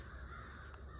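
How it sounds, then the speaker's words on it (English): Crows caw a couple of times, faint and distant, in the background behind a low steady ambient hum. "there's some birds going crazy in the background somewhere"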